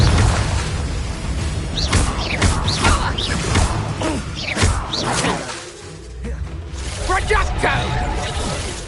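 A Confringo fire spell explodes in Hogwarts Legacy amid busy combat: repeated booming blasts, whooshes and mechanical clatter follow one another loudly, with game voices calling out over the din.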